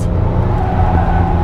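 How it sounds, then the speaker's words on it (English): Tires of a 2021 Acura TLX A-Spec squeal steadily through a turn under a loud engine roar, a continuous close-up screech lasting the whole moment. "Lots of tire squeal, lots."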